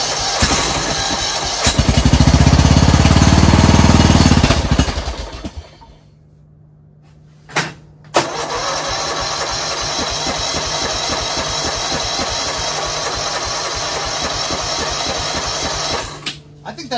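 A small snowblower engine first roars loudly, then drops out, and after a brief sharp burst settles into a steady running drone that continues alone to the end.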